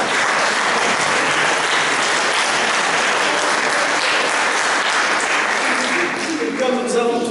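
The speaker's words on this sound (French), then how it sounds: "Alors on peut applaudir justement tous les organisateurs de cette fête." Sustained, dense applause from a congregation in a chapel, thanking the organisers of a Saint Nicolas pardon festival, steady and loud throughout and thinning slightly near the end.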